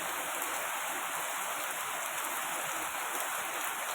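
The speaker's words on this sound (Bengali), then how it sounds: "মুষলধারে বৃষ্টি হচ্ছে।" Heavy rain pouring down at night, a dense, constant rushing hiss with no letup, steady and enveloping throughout.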